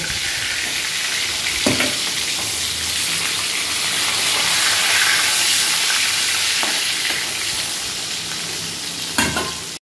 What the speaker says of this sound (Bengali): এই তেলে মাংসের আলুগুলোকে ফ্রাই করে নেব।